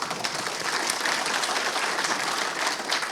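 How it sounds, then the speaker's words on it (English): Applause from an assembly hall audience marking the 100th anniversary of the Kuala Lumpur and Selangor Chinese Assembly Hall, a steady wash of many hands clapping at moderate distance, unbroken throughout. "with a round of applause"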